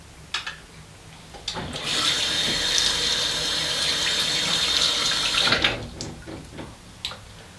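Water runs steadily from a tap onto a shaving razor and soap, a loud hissing stream lasting several seconds, framed by brief clinks and handling sounds before and after.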